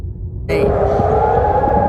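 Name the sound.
air raid siren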